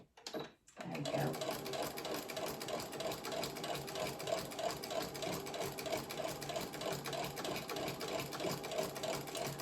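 A sewing machine stitches a Butterick 6770 blouse in a steady, slow, even rhythm that runs without pause after a brief start, close and moderately quiet.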